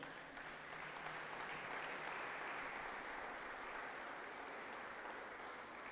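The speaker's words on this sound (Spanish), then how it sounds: "Le vuelvo a dar un aplauso al Señor" A church congregation gives a round of applause to the Lord, a steady wash of many hands clapping at moderate distance, fairly quiet and even throughout.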